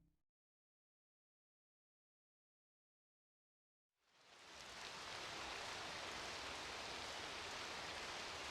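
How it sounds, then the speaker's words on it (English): Dense, steady rain hiss swells in after a few seconds of silence and holds loud and unbroken, a rainstorm over a desert city in a PS1 video game. "It's been decades since it rained like this in the desert city of Monchbia"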